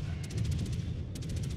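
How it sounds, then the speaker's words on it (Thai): Rapid bursts of distant anti-aircraft gunfire crackle in two quick clusters over a steady low rumble of background noise in the naval warship game World of Warships. "เสียงปืนแปลกไปวะเสียงปืนอากาศยานอ่ะ"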